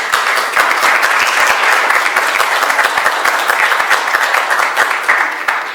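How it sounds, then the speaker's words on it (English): City council chamber attendees applaud two newly introduced legislative coordinators, loud close dense clapping sustained evenly for nearly six seconds. "So if we can please give them both a round of applause"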